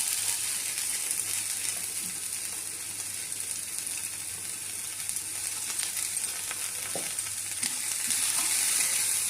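Carrot pieces and beans sizzle in a hot pan with a steady, close frying hiss, punctuated by occasional light scraping clicks from stirring.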